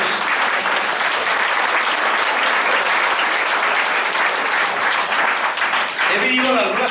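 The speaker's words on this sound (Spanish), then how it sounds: "Un aplauso a Jesús." Church congregation breaking into loud, sustained applause that fills the room for several seconds, with a voice emerging near the end as the clapping continues.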